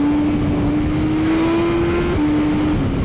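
BMW S1000RR and M1300GS motorcycles warming up, a steady, close engine drone that holds one pitch, creeps slightly higher, then dips briefly near the end.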